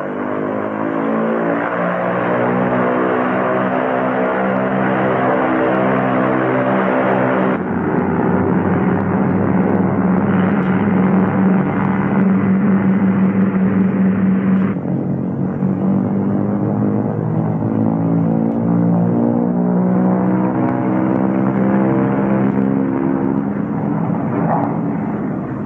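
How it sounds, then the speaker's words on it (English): Twin engines of a Lockheed P-38 Lightning fighter roar at full throttle with maximum manifold pressure, a loud, steady, continuous drone that shifts in pitch a few times throughout and never pauses. "Throttles advanced to get maximum allowable manifold pressure."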